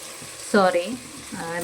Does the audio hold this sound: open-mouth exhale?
no